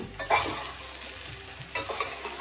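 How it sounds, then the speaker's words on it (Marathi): Vegetables for Bhogi bhaji, a Maharashtrian Sankranti mixed-vegetable dish, being stirred and sautéed in a pan, with steady sizzling broken by a few louder scrapes of the spoon; no one speaks. "एखादा मिनिट भाजी आपली परतून झाली आहे"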